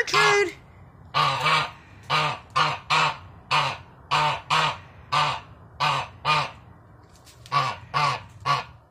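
A pet goose honks repeatedly at close range, loud nasal calls arriving in an uneven series of about a dozen bursts with short pauses between them.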